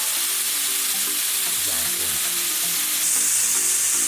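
Small cubes of potato fry in hot oil with a loud, dense, continuous sizzle and crackle, swelling brighter toward the end, with no voices.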